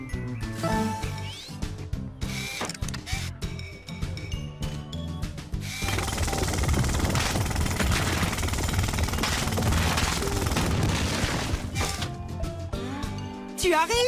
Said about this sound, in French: Ruben a besoin de ton aide pour utiliser son marteau-piqueur afin de dégager le passage pour que Rocky puisse réparer le pont cassé.